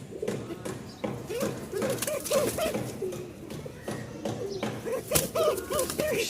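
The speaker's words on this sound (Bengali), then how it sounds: "চিকন ডাকের ককা" A male pigeon of the bashiraj breed, a thin-voiced cock bird, coos in repeated low rolling phrases, close by and moderately loud, with faint taps and background noise.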